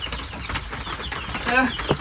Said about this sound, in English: It's some good ASMR being here with the rain on top and the chirping of the chicks around.